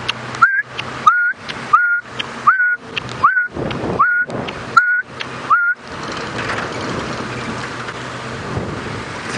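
Outdoors on an early-morning safari drive, a person imitates the call of a black-backed puffback bird with about eight short, evenly spaced whistled notes, followed by rushing wind noise.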